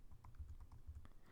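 Numbers tapped out on a computer keyboard, a quick irregular run of soft, close key clicks, fairly quiet and with no talking.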